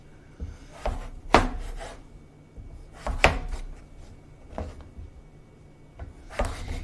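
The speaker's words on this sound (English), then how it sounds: "Do not watch me for pointers about chopping things" A kitchen knife chopping food into cubes on a cutting board: several irregular, sharp knocks spaced a second or so apart over a low steady background hum.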